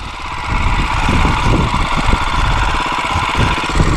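A KTM 450XC-F dirt bike engine runs steadily up close, a dense, buzzing mid-range drone with slight pulsing throughout and no voices.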